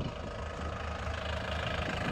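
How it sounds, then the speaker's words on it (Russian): Steady low engine rumble of a 2008 Doosan D35C-5 forklift idling at low revs, continuous and close, with no voices over it. "Двигатель на низких работает."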